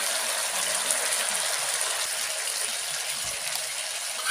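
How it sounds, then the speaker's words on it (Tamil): Water pours steadily into a potato curry gravy cooking in a pan, a continuous close splashing gush that runs without a break for a few seconds. "தேவையான கிரேவிக்கு தேவையான அளவு நம்ம தண்ணி ஆட் பண்ணிக்கலாம்"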